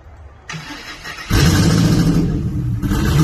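A 1000 whp 4.6-liter car engine fires up with a click and a crank, then bursts into a loud, rough, throaty idle that swells with revs, close and full.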